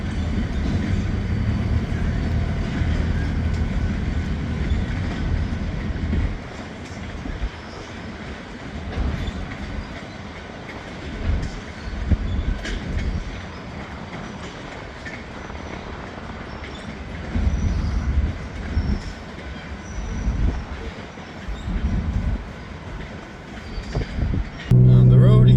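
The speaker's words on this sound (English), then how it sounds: "Doesn't sound like a lot of power for the train they have behind them." A mile-long freight train pulled by three locomotives passes close by with steady rumbling, clattering wheels and rocking rail cars, and someone talks intermittently over the noise.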